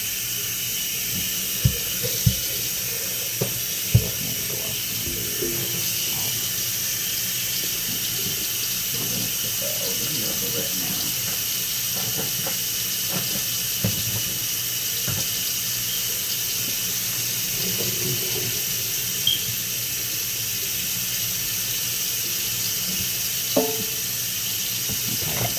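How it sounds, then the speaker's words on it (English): Tap water runs steadily at a kitchen sink while a pot lid is washed, a constant hiss of flow broken by occasional faint clinks and knocks of the lid. "I wash my lid."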